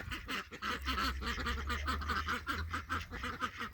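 Geese honk continuously inside their pen, a rapid, overlapping chorus of nasal calls at close range with a low hum beneath.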